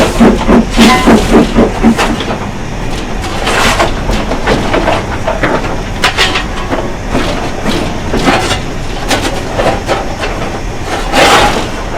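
A steam locomotive pulling away under steam, with loud rhythmic exhaust chuffs and hissing bursts repeating over a steady rumble, fairly close.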